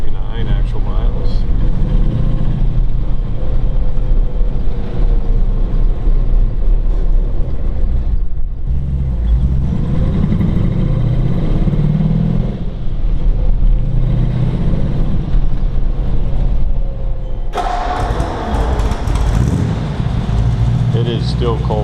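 A cold 1932 Ford 5W coupe retro-rod with original steel body runs after starting, its engine holding a steady, close low rumble and shifting in tone near the end.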